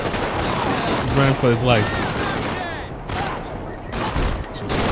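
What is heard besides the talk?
gunfire in video game GTA 5 (LSPDFR mod)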